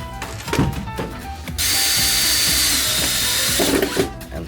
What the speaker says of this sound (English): Now we screw these on with our sculpture piece.